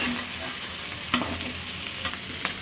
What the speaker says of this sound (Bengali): এতটুকু দিয়েই আমি মশলাটা কিছু ভালোভাবে কষিয়ে নিচ্ছি